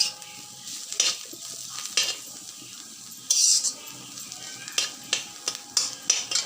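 Leafy greens (shak) cook slowly in a pan over low heat, giving a soft steady sizzle broken by repeated sharp scrapes and stirs of a utensil against the pan, close by and with no voices.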